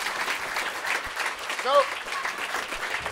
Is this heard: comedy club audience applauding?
yes